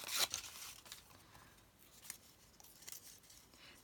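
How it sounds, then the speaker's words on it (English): Recycled Italian straw paper torn by hand during craft work, with a sharp rip at the start followed by softer rustling and a few later tearing strokes, close and fairly quiet with no talking. "And I'm just going to tear up a straw paper."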